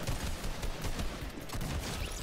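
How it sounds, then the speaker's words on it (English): Gunfire in Fortnite: a quick cluster of close, punchy shots fired in a tight irregular burst over a couple of seconds, dense and loud with no talking. "Literally every single one of my shots were missing right there."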